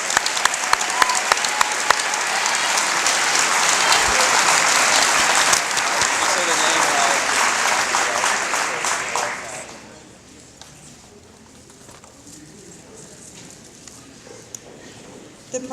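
A school awards-night audience gives a full, steady round of applause for students receiving medals, then the clapping thins out and fades to a quiet room.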